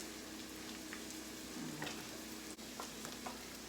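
Onions caramelizing in a pan give a soft, steady sizzle and crackle, with small pops scattered through it and no voices.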